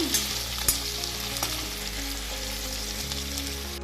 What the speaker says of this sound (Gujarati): તો આવી રીતે હલાવવાનું છે અને મિક્સ કરવાનું છે